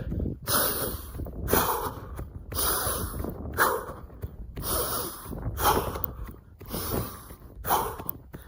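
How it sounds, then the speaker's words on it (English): Forceful, plosive breaths alternating in-through-nose and out-through-mouth, about eight loud rhythmic bursts roughly one second apart, close and alone with no talk. "I'll inhale initially very plosive, and I'll exhale very plosive"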